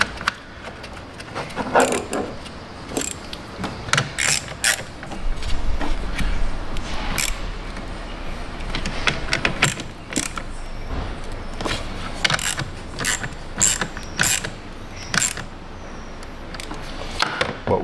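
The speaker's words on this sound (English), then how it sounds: "We're going to use a regular ratchet, so we'll go get one of them." A regular hand ratchet tightens parts on a Chrysler Pacifica, sounding as close, repeated clicking bursts with metallic clinks and brief pauses between sets of strokes.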